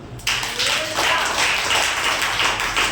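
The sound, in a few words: congregation clapping hands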